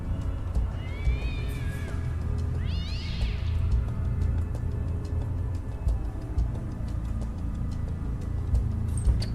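A cat in a scary video game gives two distinct meows, the second rising and wavering, over a low steady ambient drone and ticking.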